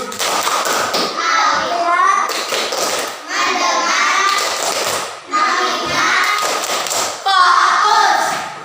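A group claps in rhythm during an Indonesian focus clapping game (tepuk fokus), with repeated bursts of sharp claps and thuds alternating with children's voices chanting along.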